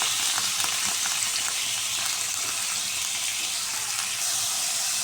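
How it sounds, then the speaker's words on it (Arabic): Chicken pieces frying in oil in a pan, seasoned with spices, giving a steady, close, loud broadband sizzle with small crackles throughout and no talk. "وغادي نديروا هاد الدجاج ديالنا يتشحر"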